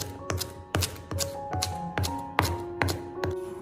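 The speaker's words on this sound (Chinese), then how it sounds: "接下来准备一点小米辣，先把辣椒切成小圈，再将它切碎，切成辣椒末" A kitchen knife chops bird's eye chilies into fine bits on a cutting board, steady close-up knocks at a quick, even rhythm, with faint ringing tones between strikes.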